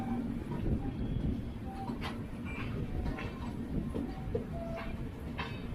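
Mahamana Express rake being shunted at night at Bhopal Junction, heard from a departing train: a steady low rumble of rolling stock with faint scattered clanks and squeals, fairly continuous and moderately close.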